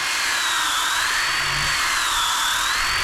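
A Dewalt DWE6401DS power sander whirs continuously at high speed on a wooden mantle, a steady shrill motor whine with a slight wavering pitch and no pauses.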